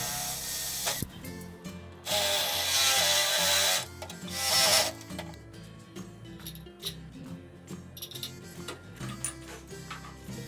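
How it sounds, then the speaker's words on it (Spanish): Power drill boring holes into a metal ring with a 1/8-inch bit in a homemade workshop setup: bursts of loud whining, grinding drilling alternate with clattering handling and mechanical noise, close and fairly loud. "A este anillo le hago orificios para poder entornillarlo usando broca de 1 octavo de pulgada"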